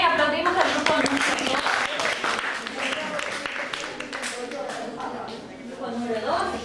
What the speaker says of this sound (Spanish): aplaudimos al grupo